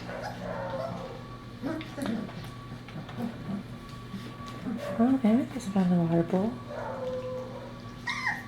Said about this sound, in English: Dogs are barking outside